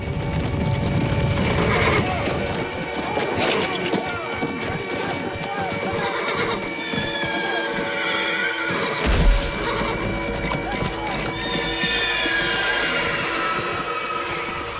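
Horses whinny over a busy, noisy scene with hooves clopping, distant shouts and general commotion under speech.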